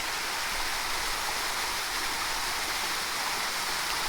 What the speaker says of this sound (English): So these fountains go down quite a bit.